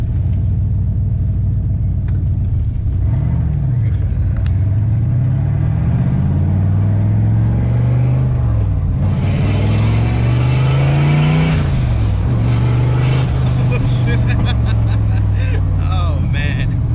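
A 1992 Nissan Fairlady Z built to 700 horsepower revs hard through several rising and falling sweeps, a loud close rumbling roar that swells and drops, with people talking faintly under it.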